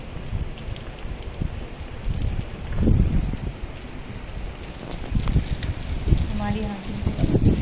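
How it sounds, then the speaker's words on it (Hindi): Heavy rain pouring straight down in a steady, dense hiss, heard from a rooftop at night, with brief louder gusts and faint background sounds throughout. "और ये है खड़ी बारिश।"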